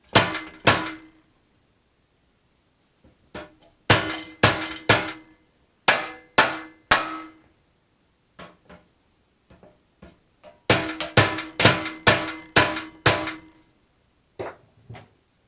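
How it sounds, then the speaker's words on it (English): A pretty big hammer pounds on metal in bursts of rapid, loud, close blows separated by silent pauses, with a few lighter taps in between. "And that's a pretty big hammer."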